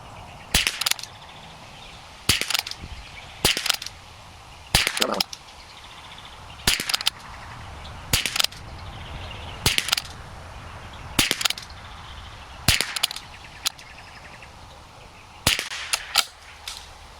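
Rifle firing American-made .22 rimfire ammunition at a shooting range, a steady series of about twelve sharp, loud cracks spaced one to two seconds apart, with a close cluster of shots near the end.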